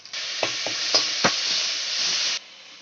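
Onions frying in a pan with ginger-garlic paste just added, for a chicken dish, giving a steady close sizzle broken by several scraping stir strokes, then cutting off abruptly after about two and a half seconds.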